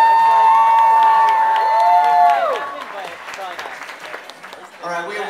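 A crowd at a 2010 gathering in Orlando cheers and applauds, with whoops and shouts over sustained clapping, following a loud whistle-like squeal; the noise stays close and lively throughout.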